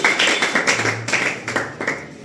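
Loud, close group clapping at a DXN meeting, a quick steady rhythm of synchronized claps that softens slightly toward the end, with no speech.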